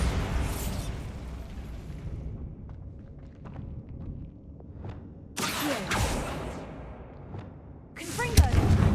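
The Bombarda spell in Hogwarts Legacy goes off inside Feldcroft Catacomb: sharp blasts with rumbling tails come in bursts after a quieter stretch, close and loud, with a voice speaking nearby.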